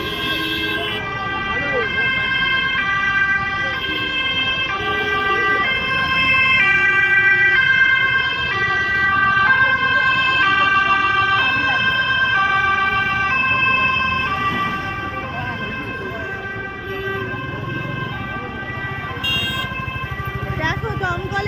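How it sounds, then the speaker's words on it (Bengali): Fire engine sirens wail continuously as more fire trucks arrive at a large blaze, the loud rising and falling tones close by over road traffic, with talk mixed in. "সামনে দমকল আসছে, আরো 6টা দমকল গাড়ি ছিল, এখন আবার দমকলের গাড়ি আসছে।"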